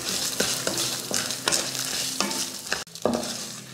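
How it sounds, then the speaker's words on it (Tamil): Chana dal, dried red chillies, tamarind and curry leaves dry-roast in a pan, giving a steady close sizzle broken by repeated sharp scraping stirs of a spoon, with no voices. "ஒரு 6 போல் வரமிளகாய், கொஞ்சமாக புளி, இதையும் சேர்த்து வறுத்துக்கலாம்."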